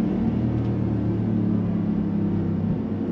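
A supercharged 2022 Roush Ford F-150 pickup engine dropping to second gear, a loud steady low rumble and drone close to the cabin with no clear rev spike.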